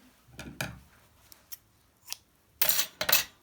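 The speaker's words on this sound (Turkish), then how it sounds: "İpi kesiyorum." Scissors snip knitting yarn while finishing a zigzag scarf, giving a few soft handling rustles followed by two crisp, close snips near the end, in an otherwise quiet room.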